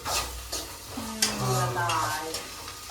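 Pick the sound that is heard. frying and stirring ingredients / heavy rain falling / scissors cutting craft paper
frying and stirring ingredients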